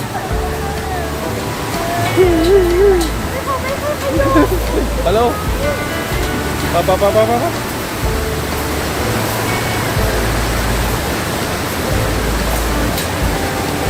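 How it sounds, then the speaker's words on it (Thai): A waterfall rushes steadily below a swaying suspension bridge leading to a Chiang Mai café, a loud continuous wash of water under people talking and urging each other to keep walking. "ทางเข้าร้านต้องเดินข้ามน้ำตกไปด้วยสะพานแขวนแบบนี้ค่ะ"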